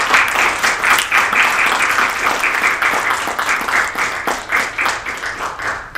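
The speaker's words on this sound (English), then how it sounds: "Please welcome her with a big round of applause." An audience applauds to welcome a lecturer to the podium, loud, dense clapping with a slightly pulsing rhythm that carries on for six seconds and thins a little toward the end.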